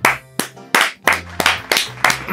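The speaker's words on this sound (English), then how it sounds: "What are we clapping for?" Several people clap their hands together in loud, sharp bursts, about seven distinct claps spaced roughly evenly and close by, with a faint low hum between them.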